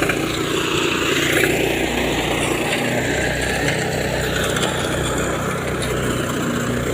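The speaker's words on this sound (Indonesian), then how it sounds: "ada 1 orang yang proses untuk memasukkan jerami padi ke dalam mesin gerabagannya." Power rice thresher (grabagan type) running steadily in a paddy field while rice straw is fed into it, a loud continuous engine-driven rumble and whir lasting throughout with no breaks.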